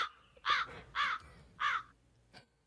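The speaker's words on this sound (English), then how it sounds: "We'll give you a Jayhawk squawk." Jayhawk squawk bird call sound effect: three loud, evenly spaced harsh squawks followed by a fainter fourth, heard alone and close.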